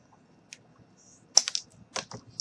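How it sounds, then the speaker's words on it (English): Scissors snip a small piece of craft wire while making a small Valentine gnome figurine, giving a few sharp, close clicks and snaps spread over a couple of seconds in a quiet room. "I am going to cut a little bit off with my scissors"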